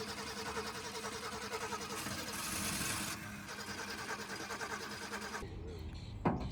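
The engine of an abandoned Ford Falcon cranks repeatedly without catching, a steady rhythmic churning close up for about five seconds before it stops.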